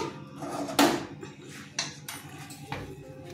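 Pan set down and scraped as a thick potol and chana dal mixture is tipped onto a plate: a sharp metallic clank, then softer knocks and scraping at close range, with no talk.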